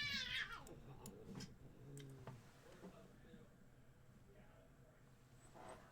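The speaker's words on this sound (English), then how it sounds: "I got cats freaking out." Several house cats meow and yowl nearby, a rising drawn-out caterwaul followed by shorter cries, faint and somewhat distant against a quiet room hum.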